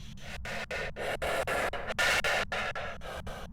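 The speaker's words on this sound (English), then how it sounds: "it has a 1 in 3 chance to produce a unique spirit box response" A short burst of harsh, static-laden breathy noise with a low rumble, chopped into rapid pulses like a radio scanning, raspy and ghostly: a Deogen ghost's spirit box response in the game Phasmophobia.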